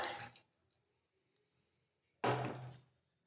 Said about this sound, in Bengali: তারপর এখানে আমি দিয়ে দেব জল এখানে আমি জল দিয়ে দেব